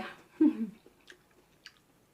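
Close, crisp crunching as someone bites into and chews a crunchy wild mushroom, one firm bite followed by a few soft, quiet chews.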